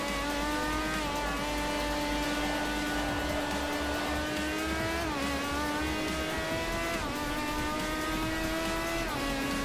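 Race car engines in the Forza Motorsport video game at the Hockenheim circuit, with a loud, continuous high-revving drone that climbs in pitch, drops sharply at gear changes and climbs again toward the rev limiter.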